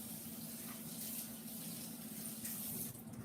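Vegetables such as celery and onion being rinsed under a running kitchen tap, a steady close splashing stream of water into a sink that continues throughout, with no talking.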